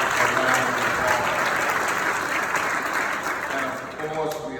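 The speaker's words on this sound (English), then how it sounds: "Give him a round of applause." Audience applause fills a commemorative service hall, a dense steady wash of clapping from many hands, loud and sustained, fading slightly toward the end.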